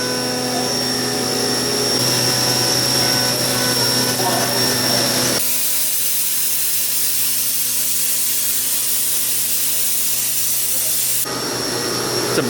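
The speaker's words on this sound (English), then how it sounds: "you can really see now how the machine is taking away the ridges" A CNC machine mills a billet aluminum skateboard, giving off a loud continuous whine and hiss that drops to a quieter, airier tone partway through before the harsher grinding returns near the end.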